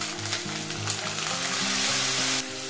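Curd sizzling in hot oil with ginger and chilli paste on a low flame, a steady hiss of frying that stops abruptly near the end, with faint tonal hum underneath.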